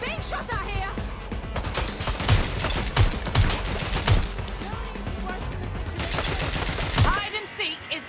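Gunfire in the Watch Dogs Legion video game: rapid bursts of shots and sharp cracks pile up over a dense, busy game soundscape, loud and close throughout, with louder volleys near the middle and end.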